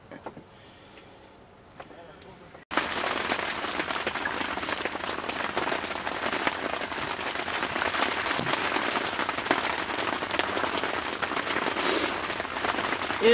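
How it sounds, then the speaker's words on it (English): Heavy rain pours steadily on an ice-fishing spot in Michigan, a dense, loud, continuous hiss that starts abruptly after a brief quieter stretch and holds for the rest of the clip. "It is raining like crazy."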